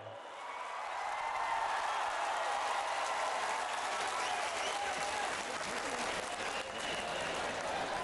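Audience applause welcoming Prime Minister Narendra Modi at a public event in Daman, a broad sustained wash of crowd clapping that swells in and holds steady, with faint crowd voices beneath.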